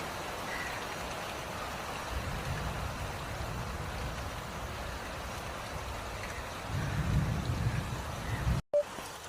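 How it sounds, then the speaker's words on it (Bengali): Rain beginning over Siliguri ahead of a thunderstorm, a steady wash of falling rain throughout with a low rumble swelling near the end before a brief cut. "বৃষ্টি শুরু হয়ে গেল"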